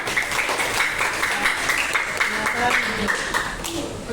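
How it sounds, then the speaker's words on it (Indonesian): A classroom full of people clapping steadily for several seconds, a dense, even burst of applause with some voices mixed in. "Tepuk tangan semuanya."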